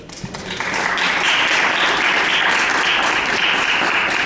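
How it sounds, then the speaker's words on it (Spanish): A crowd breaks into loud, sustained applause that builds quickly and holds steady. "un aplauso para ustedes y para ustedes"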